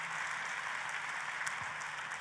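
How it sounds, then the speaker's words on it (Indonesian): Church congregation applauding, a continuous, moderately distant wash of many hands clapping at an even level, without talk. "Untuk Tuhan yang seperti itu boleh beri tepuk tanganmu yang paling meriah."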